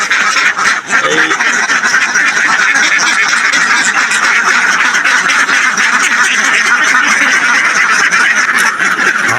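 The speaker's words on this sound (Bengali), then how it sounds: "হাঁসগুলো বাইরে যাওয়ার জন্য ছটফট করতেছে" A large flock of farm ducks quacks loudly and constantly, a dense, overlapping clamour that never lets up, close at hand with no talking.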